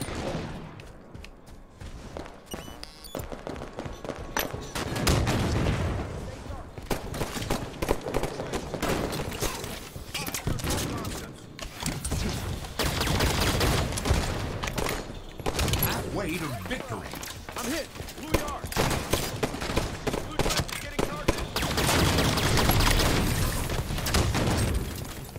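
Halo 5 match on Xbox One with dense bursts of gunfire, pops and booms running continuously throughout, mixed with game effects while players talk over the action.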